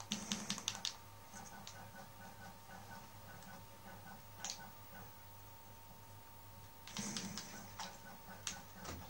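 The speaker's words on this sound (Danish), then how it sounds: "I kan høre, når jeg trykker på tasterne." Computer keyboard keys clack in quick clusters of sharp taps, with a burst at the start, a lone press midway and another flurry near the end, over a faint steady hum.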